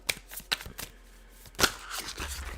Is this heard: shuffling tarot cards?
yes